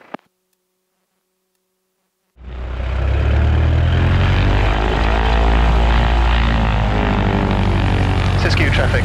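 A silver Ercoupe light airplane's propeller engine roars up loudly after a brief near-silent start, holding a steady, close, full-power drone as it departs the runway at a small airfield.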